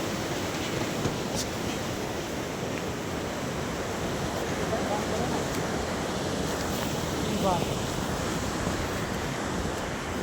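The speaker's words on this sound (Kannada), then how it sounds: "ನದಿ ಏನು ಜೋರಾಗಿ ಹರಿತಾ ಇದೆ" Strong river current rushing below a mountain bridge, a dense, steady broadband roar of turbulent water that stays loud and unbroken throughout, with wind buffeting the microphone.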